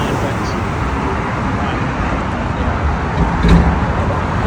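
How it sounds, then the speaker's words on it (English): Loud road traffic rumbles steadily around a jogger walking in Pleasanton, a dense continuous wash of passing engines and tire noise with a slight swell near the end. "And the traffic is loud."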